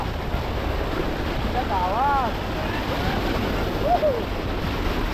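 A truck moves through floodwater covering a highway, a constant rushing wash of water and wind noise with a few faint whining tones above it.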